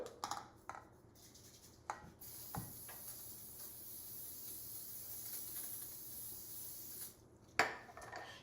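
A faint, steady hiss of cooking oil spray runs for several seconds between soft clicks and handling noises in a kitchen.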